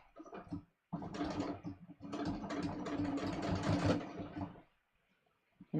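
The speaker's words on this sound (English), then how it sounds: "I am just going to stitch really close to the edge here" A home sewing machine topstitches close to the folded edge of jeans, running in a steady mechanical whir for about three seconds after a brief start, then stopping into near silence.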